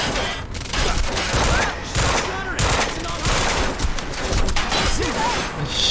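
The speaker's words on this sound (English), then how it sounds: "Burst fire pistol." Gunfire from the video game Quantum Break, a burst-fire pistol among dense rapid shots and explosions in a loud continuous firefight, with faint voices under the din.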